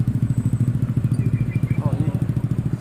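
Hundreds of motorcycles in a wedding procession in Sumedang, West Java, chug past close by with a rapid, steady engine pulse as voices talk over them.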